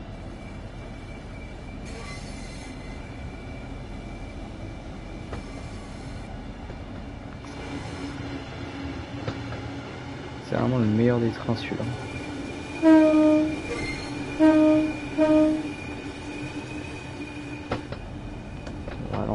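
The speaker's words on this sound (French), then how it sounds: "on entend le bruit du moteur qui accélère" Electric train engine in the Train Sim World 3 railway game, a low steady drone with a rising whine as it speeds up, joined by a few repeated tonal horn-like blasts partway through, with someone talking over it.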